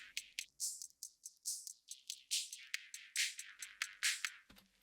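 A beat runs through an EQ8 high-pass filter on the master, stripped to a tinny, hissy top end like a bad radio. Rhythmic bursts repeat quietly before a brief low thump at the close.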